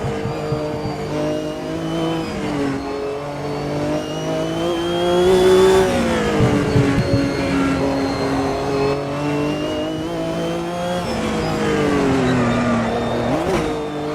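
Race car engine in the Automobilista 2 sim racing game, revving hard at full throttle with shifting, rising and falling pitch; loud and continuous throughout, with brief tire squeal.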